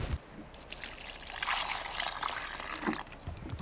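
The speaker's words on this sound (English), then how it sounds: "This actually gets poured on some plants." Fish-cleaning water poured onto garden plants at a river spot in Mora, New Mexico: a close splashing trickle that swells and ebbs as the stream lands, with no talking.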